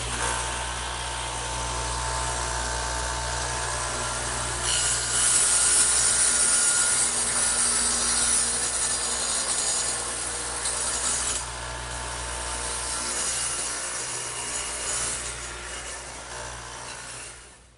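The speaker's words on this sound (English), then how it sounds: "I'm going to do that to this piece right here over on the radial arm saw, which again has the dado head in it." A radial arm saw fitted with a dado head cuts across a wooden trestle table piece, a loud sustained grinding hum that swells midway through the pass and then fades as the cut finishes.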